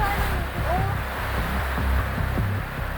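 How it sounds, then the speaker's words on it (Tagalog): Strong gusty wind buffets the microphone at a campsite in Tagaytay, a steady loud roar with surges throughout, with faint voices underneath. "Grabe, lakas ng hangin, no?"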